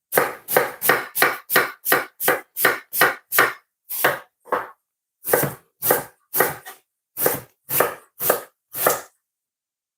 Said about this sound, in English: So I'm chopping some onion